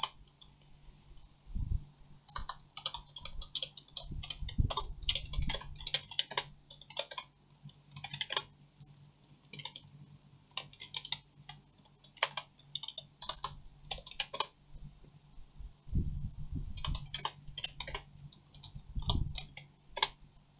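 Rapid irregular clicking of a computer keyboard as code is typed, bursts of quick keystrokes separated by short pauses, close and fairly quiet with no talking.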